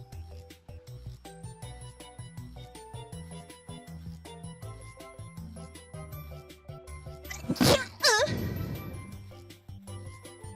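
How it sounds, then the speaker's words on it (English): A single sudden sneeze from a streamer playing Palworld bursts out loudly near the end, over light tinkling game music that plays throughout. "I gotta sneeze again."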